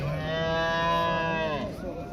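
A cow at a livestock market in Kasba Tadla gives one long, loud, close moo with a rich tonal drone that bends downward near the end, standing alone without talk.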